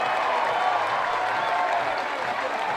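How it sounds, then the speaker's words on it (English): Baseball crowd at a ballpark cheering and applauding after a win, a dense steady wash of clapping and shouting, loud and sustained throughout. "this crowd is loving it"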